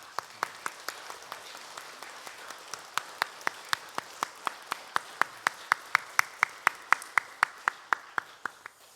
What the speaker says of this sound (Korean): 윤태수 목사님 사역 위에 하나님의 축복과 은혜가 함께 하시길 바라는 마음으로 우리 서로 함께 축복의 박수 하도록 하겠습니다.